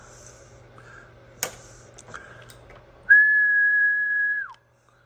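A person whistles into a microphone to test a Heathkit SB-200 amplifier on a ham radio setup, producing one steady, sustained pitch for about a second and a half after a few faint clicks in a quiet room.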